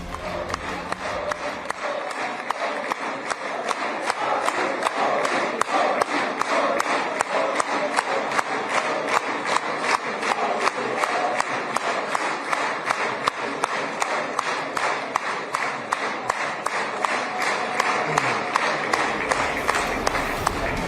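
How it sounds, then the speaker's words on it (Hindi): A large crowd in Israel's parliament chants rhythmically for Indian Prime Minister Modi, with steady pulsing beats that may include clapping, loud and dense throughout for about twenty seconds. "इजराइल की संसद में मोदी मोदी की गूंज।"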